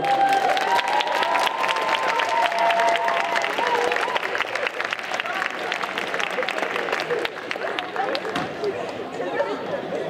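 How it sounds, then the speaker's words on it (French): A crowd at a cosplay contest prize ceremony at a Japanese manga convention in Saint-Étienne claps steadily for ten seconds, with brisk individual claps standing out amid chatter and voices talking over it. "Applaudissez-la quand même, applaudissez-la"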